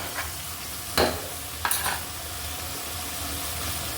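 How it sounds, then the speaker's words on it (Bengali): An eggplant dish sautéing in a pan with coriander leaves, a steady low sizzle with two brief scraping stirs of a spoon against the pan. "আমি অনেকক্ষণ ধরে এটা কষিয়ে নিব"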